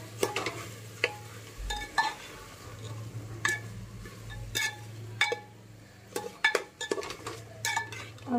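Utensils scrape and clink against a metal pot in a steady stirring rhythm as rice, lentils and potatoes are mixed for salted rice, with a low hum underneath and no talking.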